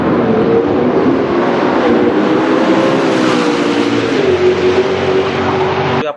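A Mustang-type car roars past with a loud, sustained engine drone that shifts in pitch as it passes, then cuts off abruptly.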